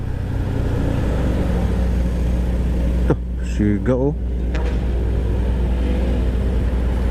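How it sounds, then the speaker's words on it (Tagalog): Steady low rumble of road traffic with large vehicles moving alongside, continuous throughout, with a person speaking briefly partway through. "Nalaking mga sasakyan yung kasabayan natin"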